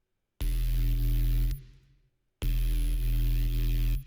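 Serum drum and bass synth bass with the formant filter off, two loud sustained buzzy notes of about a second each, separated by a short silent gap and cut off sharply.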